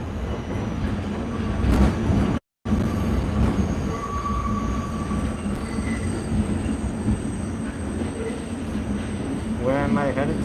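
A New York subway N train running underground, a steady rumbling rattle of wheels on track with intermittent high squeals and a piercing wavering screech near the end, briefly cut to silence partway.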